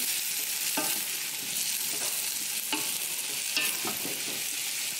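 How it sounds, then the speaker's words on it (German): Red onions gently sweating in a pan for a spiced pumpkin-apple vegetable dish, a steady low sizzle with occasional clinks and scrapes of stirring, close and continuous with no voices. "ein paar rote Zwiebeln dazu. So, die lassen wir jetzt leicht anschwitzen."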